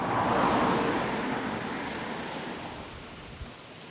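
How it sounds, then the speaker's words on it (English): Heavy rain pours down beside a disused railway line near a bus shelter under an abandoned bridge, a dense steady hiss that eases slightly over the seconds, with faint road traffic underneath. "It has started raining very heavily."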